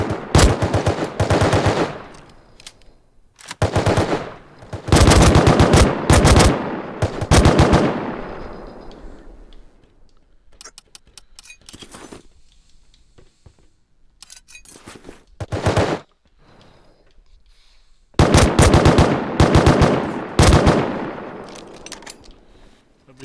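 Scientist enemies in Rust open up with bursts of rapid automatic gunfire, loud and close. Long sustained volleys are broken by short pauses and scattered single shots, with no talking.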